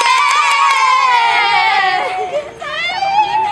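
A group of students at a school event cheer and shout together in a loud, close burst of excited voices, rising and falling over a few seconds.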